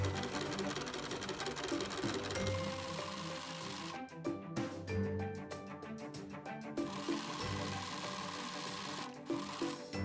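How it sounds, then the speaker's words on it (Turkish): A home sewing machine runs a straight stitch at presser-foot width, a steady close mechanical whir with a brief pause partway, then resuming. "Önce ayak genişliğinde bir dikiş yapalım."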